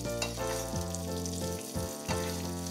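A pork chop fries in very hot oil, giving a loud, steady sizzle and crackle throughout, heard close up with no talking.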